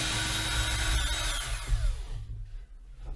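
A power drill drives black screws into a wooden craps table, its motor whining steadily and close for about two seconds before spinning down and fading out.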